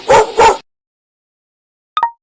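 A dog lets out two quick, sharp barks close by, then the clip falls silent apart from a short faint chirp at the end.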